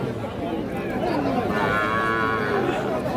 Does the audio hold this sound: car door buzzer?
no